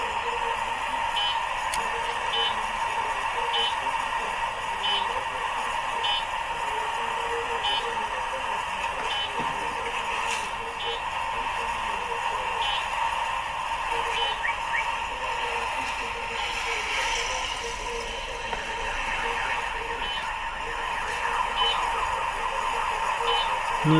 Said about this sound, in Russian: Ну, это шум улицы.